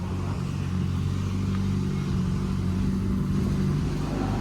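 A Honda Integra street car leaves a dyno under its own power, its engine a steady, mid-loud rumble that holds at one even level throughout, with no voices.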